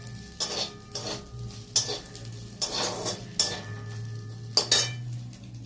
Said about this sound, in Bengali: চিংড়ি মাছগুলো ভেজে নিলাম